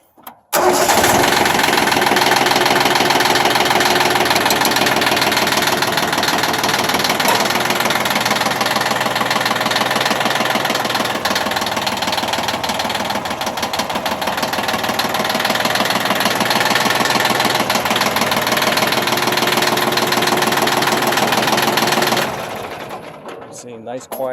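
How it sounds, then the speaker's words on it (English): A Yanmar YM1510 compact tractor starts up and settles into a steady, even-running idle, its diesel clatter holding continuously for over twenty seconds before shutting off near the end. "See, nice quiet tractor."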